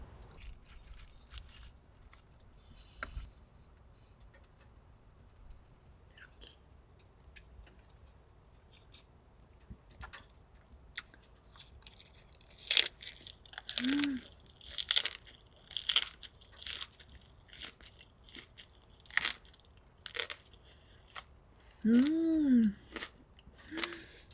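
Someone chews a soft, tender cooked dish during a freezing winter camp inside a homemade camper car with a wood stove, giving close, crisp bites and wet chewing bursts that grow louder in the second half, with quiet background hum and a short vocal hum.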